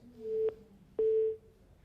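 Telephone disconnect tone after a call to an official cuts off: two clean, fairly loud beeps about half a second apart, heard alone with no talking.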